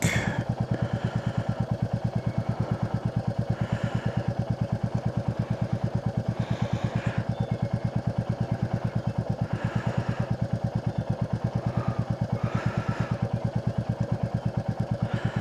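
A motorcycle being ridden gives a steady, close, rhythmic engine drone with fast even pulses that hold constant the whole time, under faint wind and road noise.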